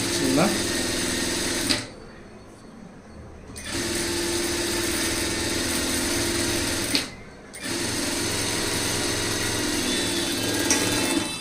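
Sewing machine stitching a blouse, running in steady loud whirring stretches broken by two brief stops, close by, with a voice talking over it.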